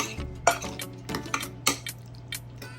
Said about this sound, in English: And then we're just gonna mix all these beautiful ingredients together.